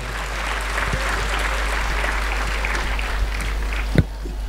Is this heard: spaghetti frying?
no